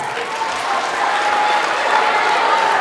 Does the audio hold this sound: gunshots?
no